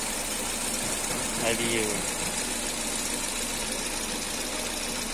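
A Chevrolet Aveo engine idles steadily just after an engine replacement, a continuous mid-pitched hum that stays level throughout with someone talking briefly over it.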